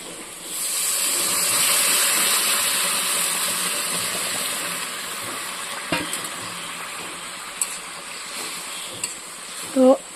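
Water poured into a hot pan of fish curry with potatoes brings a steady hiss and steamy sizzle that holds for several seconds, with a few sharp clinks and utensil knocks near the end.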